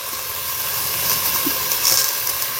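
Onions with green chillies sauté in a pan for chicken dum biryani, giving off a steady, close, broadband hiss with no talk.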